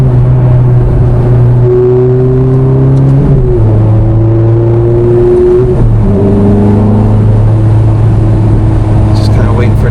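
A 2007 Ferrari F430 Spider engine drones loudly while driving, its steady note stepping down in pitch at each gear change, with a voice talking over it.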